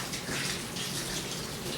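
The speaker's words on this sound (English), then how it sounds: "Let me wash my hands." Tap water runs steadily over hands being washed in a kitchen sink, a soft continuous splashing rush heard alone.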